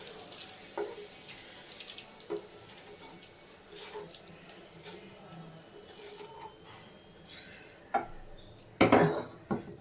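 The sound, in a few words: frying dried bitter gourd in pan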